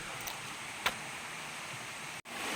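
Water pours steadily at Huai To waterfall, a constant broadband rush heard alone for a couple of seconds.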